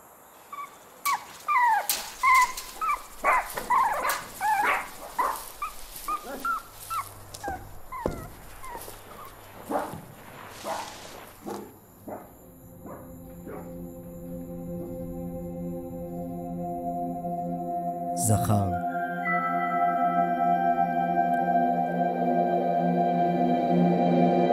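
A dog gives a run of short yips and whimpers, close and fairly loud, over roughly the first twelve seconds. It then fades out beneath steady tonal music.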